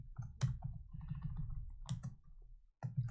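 Fingers type on a computer keyboard up close, a quick run of soft clicking keystrokes with a brief pause near the end before the tapping resumes.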